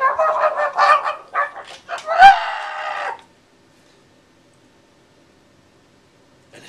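A human voice imitates a squawking parrot, with harsh, honking squawks for about three seconds before it cuts off into near silence.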